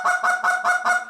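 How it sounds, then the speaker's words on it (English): Goose call blown by a hunter, five sharp honking clucks in a quick, even rhythm, loud and close with no other sound. "All the duck and a goose call is a directional tool."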